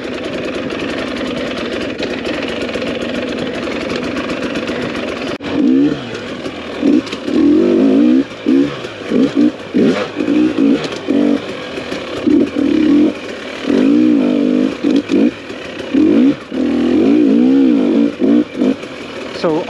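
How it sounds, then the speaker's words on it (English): A TPI fuel-injected two-stroke motorcycle engine idles, then revs in repeated sharp throttle blips with a raspy, buzzing two-stroke tone, close and loud. "This TPI bike, it's got a bit more of like a four-stroke kind of feel to the throttle response."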